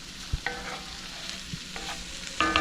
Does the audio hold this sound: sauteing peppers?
yes